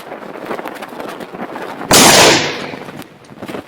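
An Impala Plus 47 cantilever shotgun fires a single loud close blast at a human target, preceded by quiet handling and background noise, with the boom ringing and tapering off over about a second.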